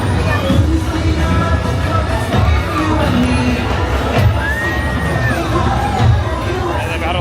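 Busy Disney park crowd near Big Thunder Mountain, a loud steady hubbub of many voices with children shouting and occasional whoops, close and continuous throughout.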